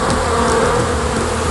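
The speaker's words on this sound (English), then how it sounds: "The smell of the solution attracts the swarm of bees to his lips" A swarm of bees drawn by a sweet solution buzzes loudly and continuously around a man's mouth, a dense close droning hum with no gaps.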